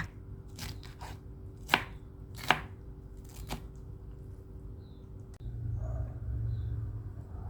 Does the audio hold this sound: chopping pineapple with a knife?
yes